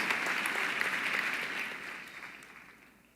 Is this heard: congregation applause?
yes